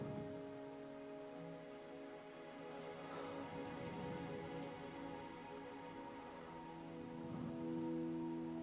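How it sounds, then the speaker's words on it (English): Steady rain falls in the Wuthering Waves video game, a soft continuous patter over a low musical background, with no speech. "Are you trapped here by the rain?"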